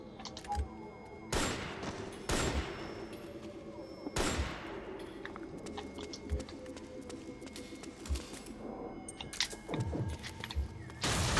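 M14 EBR battle rifle in a video game, several sharp single shots spaced seconds apart with ringing decays, mixed with chirping bird ambience and background clatter.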